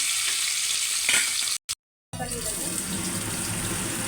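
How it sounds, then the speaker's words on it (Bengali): Peanuts sizzle loudly in hot oil, being fried for a spicy semolina dish. The steady frying hiss cuts out briefly and then resumes just as strongly, close by. "এরপর আমি তেলের ভিতরে দিয়ে দেবো বাদামটা"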